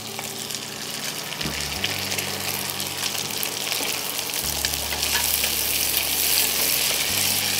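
Small mourala fish fry in hot oil in a pan, a loud, continuous crackling sizzle that holds steady throughout with faint clinks, no voices.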